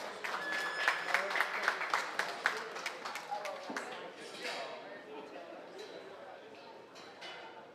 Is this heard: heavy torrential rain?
no